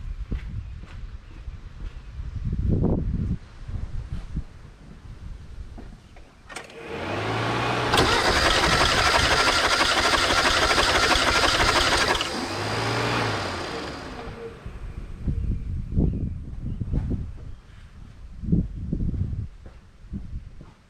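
A Mazda 323 engine cranks over on the starter during a compression check with new spark plugs. The steady, loud cranking runs for about five seconds mid-clip and is framed by quieter clanks and handling noises before and after.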